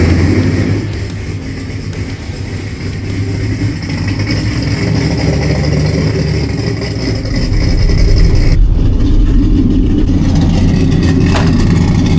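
A loud Chevrolet C10 truck engine with new NASCAR-style exhaust rumbles and revs steadily, rising in intensity partway through, with a deep throaty exhaust tone throughout.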